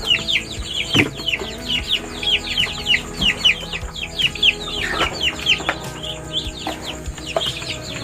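A group of young kampung chickens and Muscovy ducklings chirps and clucks continuously while pecking at food nearby, with occasional knocks and scraping sounds in the background.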